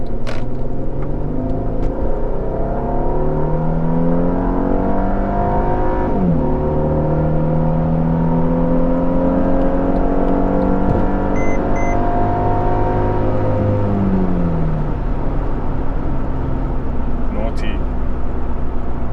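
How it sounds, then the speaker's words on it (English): A 2014 Mercedes-Benz E400 twin-turbo V6 revs and accelerates hard through several gears onto a highway, pitch rising and dropping at each shift, over steady road and wind noise inside the cabin. "So I'm going to join the highway now, just to get on the power"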